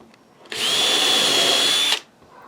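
A power drill whirs loudly for about a second and a half, starting and stopping abruptly, with quiet surroundings before and after.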